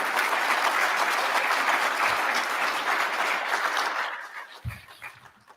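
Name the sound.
audience clapping at a graduation ceremony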